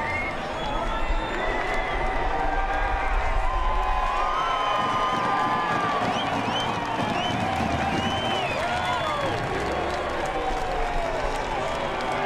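A large crowd cheers and roars in the grandstands at the NASCAR Cup Series championship race, a dense continuous wall of cheering and shouting, with a few voices rising above it.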